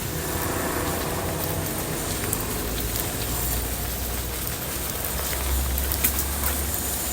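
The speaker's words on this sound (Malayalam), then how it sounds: "ഇവിടെ ഇപ്പം നല്ല മഴയുണ്ട് കേട്ടോ" Heavy rain pours steadily at a bus stop, a dense continuous hiss and patter close by for the whole stretch, with faint traffic rumble underneath and no voices.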